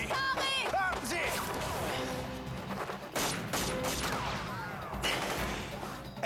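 Warning shots ring out in a burst of gunfire with sharp cracks and crashes, mixed with shouting voices and chaotic movement close by.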